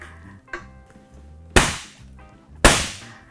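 A tray of piped macaron shells banged down on a kitchen counter, a light knock followed by two loud, sharp impacts about a second apart, each ringing briefly.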